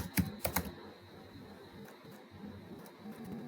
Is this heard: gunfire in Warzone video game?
no